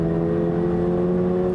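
2022 Toyota GR 86 under hard launch, a steady sustained engine tone holding firmly for a short moment, loud and close with no talk.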